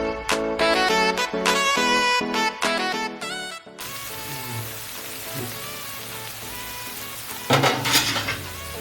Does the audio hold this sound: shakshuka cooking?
yes